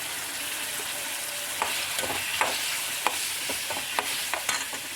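Green chilies hit hot oil in a pan with a steady, broad sizzle, punctuated by a few sharp spits and scrapes of stirring, with no voices.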